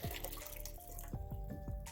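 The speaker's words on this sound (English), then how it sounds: "So I'm going to pour a glass of water" Water from a glass pours into a blender for a date and walnut shake, a close, steady liquid trickle with dripping, splashy bursts and no talking.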